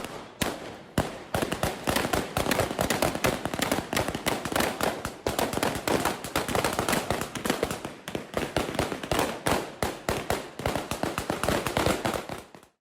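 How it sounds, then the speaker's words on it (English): Rapid, continuous bursts of gunfire from Taliban fighters shooting into the air to break up a women's protest in Kabul, loud, dense cracks running almost without pause. "the Taliban fighters resorted to firing in the air to disperse the women protesters"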